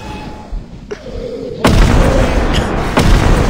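A grenade in the video game Content Warning detonates as a loud, sudden boom that cuts in sharply and rumbles on, following quieter game noise.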